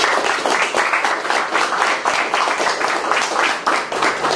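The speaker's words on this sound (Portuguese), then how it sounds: "Queria pedir todo mundo para uma salva de palmas aí para ele." Audience applause for a fight sponsor at a martial arts championship press conference, a steady burst of many hands clapping with individual claps faintly distinct.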